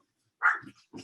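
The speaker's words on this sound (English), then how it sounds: "Your baby's barking, Alethia." A new puppy belonging to a participant in an online meeting gives one short, fairly faint yelp-like bark, followed a moment later by a softer second sound from close by.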